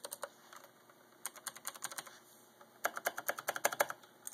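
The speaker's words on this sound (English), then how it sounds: "a Black Widow Ultimate keyboard with mechanical key switches, as you can see right here" Typing on a Razer BlackWidow Ultimate mechanical keyboard, quick bursts of sharp tactile clicks in irregular runs with short pauses, close and fairly quiet, with no talking.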